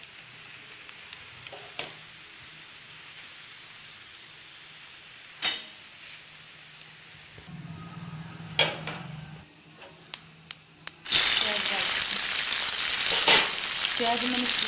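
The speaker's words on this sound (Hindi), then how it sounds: "जीरा डाल देते हैं।" Cumin seeds drop into hot ghee for a home-cooked haldi sabzi and crackle steadily, with a few sharp clicks, then burst into a loud, dense sizzle near the end.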